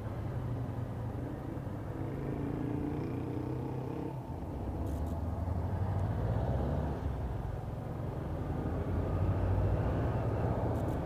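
Volkswagen Beetle (Fusca) engine running smoothly in street traffic, a steady low rumble throughout with a motorcycle nearby, heard from close by without talk.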